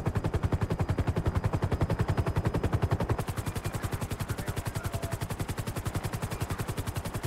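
A helicopter in the video game GTA 5 gives a steady, fast rotor chop that stays loud and even from start to finish, with no voices over it.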